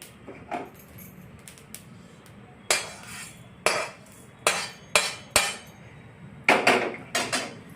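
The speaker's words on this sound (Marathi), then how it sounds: "आता आपण जिरे भाजत आहोत" Cumin seeds dry-roasting in a pan, heard as sharp metallic clinks and scrapes of a utensil against the pan, scattered at first and then in a quicker run of distinct knocks, close and fairly loud.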